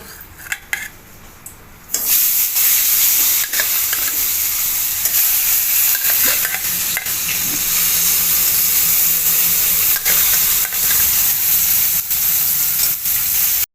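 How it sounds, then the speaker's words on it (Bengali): Bhola fish pieces coated in turmeric and salt fry in hot oil in a kadai, a few light utensil knocks giving way to a loud, steady sizzle with occasional stirring clinks. "মাছগুলো ভেজে নিচ্ছি।"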